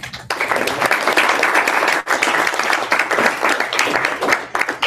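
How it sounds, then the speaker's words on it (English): An audience applauds a speaker at a finance talk, with steady, dense clapping that fills the room for nearly five seconds, briefly dipping at about two seconds before swelling again. "let's give him a round of applause"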